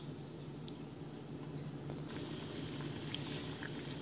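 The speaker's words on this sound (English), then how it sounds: "While the fiddleheads are boiling" Fiddleheads boil in a pot of water, giving a steady, quiet bubbling and simmering hiss that runs unbroken throughout, close by and low in level, with no voices.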